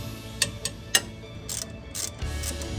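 Ratchet wrench loosening and removing bolts during a brake job on a Honda, a few sharp separate clicks and short ratcheting bursts close by in a quiet workshop.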